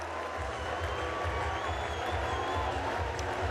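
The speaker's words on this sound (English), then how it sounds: "being met with a warm round of applause from the Rovers faithful" A rugby league crowd at Castleford's stadium gives a warm round of applause as a player jogs onto the pitch, a broad, steady wash of clapping heard from a distance.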